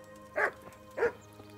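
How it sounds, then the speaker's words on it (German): Dogs bark twice in the video game Kingdom Come: Deliverance, two separate woofs about half a second apart, moderately close over a quiet background hum. "jetzt bellen die Hunde um die Wette"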